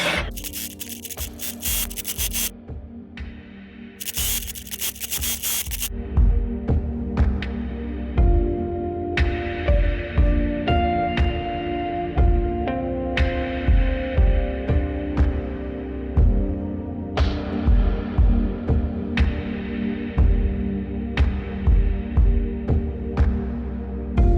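A sewing machine stitches fabric for sleep masks and scrunchies, running in short rhythmic bursts with quiet gaps between, preceded by a few seconds of louder rustling or hissing, close and clear.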